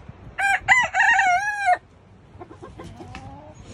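A backyard rooster crows a loud, close cock-a-doodle-doo lasting just over a second, followed by quieter clucking and chirping from the flock.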